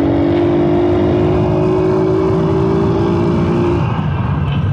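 A car engine drones loudly and steadily up close, its pitch holding for several seconds before easing off as the vehicle moves on.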